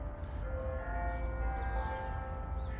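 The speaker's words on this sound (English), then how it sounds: "If you hear the bells, there's at different times they play traditional Russian songs." Church-style bells play a melodic sequence of sustained ringing tones in the background, steady and moderately faint under a low rumble of ambient noise.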